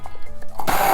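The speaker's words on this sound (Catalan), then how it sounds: "amb el mini pimer, trinxarem la ceba" A mini hand blender chopping onion whirs in loudly at mid-clip and runs steadily to the end, after a few soft knocks and quieter moments at the start.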